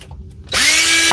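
DeWalt drill in hammer mode: after a brief quiet lead-in, the motor spins up and holds a loud, steady whine with a dense hammering buzz, running continuously to the end.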